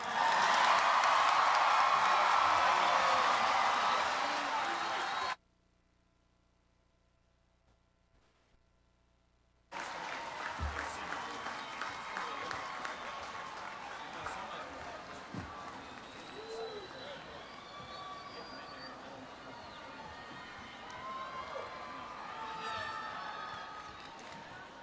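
Crowd applause and scattered cheering for high school graduates at a 2021 commencement, loud at first, then a gap of near silence, then renewed, thinner clapping and cheers over the venue's background sound.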